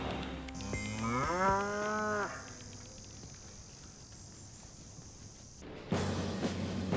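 A dairy cow on a Hokkaido agricultural high school farm gives one long, rising moo, followed by near silence with a faint high insect-like whine, then some nearby rustling and bumping noise at the end.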